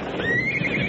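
A horse whinnies once in a short, rising neigh, a vintage radio-drama effect heard close and clear with no talk over it.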